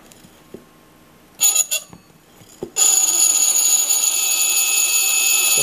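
A block of dry ice meets a metal blade: a few soft knocks and brief rasps give way to a loud, sustained, piercing metallic screech that holds steadily to the end.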